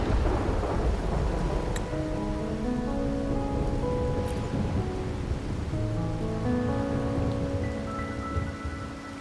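Heavy rain and rumbling thunder from a storm in Wuthering Waves, a steady close downpour with low rolling thunder, while soft musical tones drift over it.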